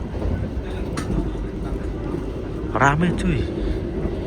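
A Gajayana passenger train rolls along the rails with a constant low rumble, while people talk nearby over the running noise.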